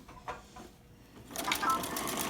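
A sewing machine stitches fabric for a Christmas appliqué pillow cover, starting up after a few quiet clicks into a fast, steady, close whirring run; a voice talks over it.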